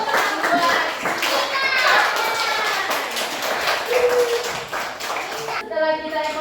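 Children clap their hands together in a classroom, a dense burst of claps mixed with young voices chattering over it, fairly close and steady for several seconds.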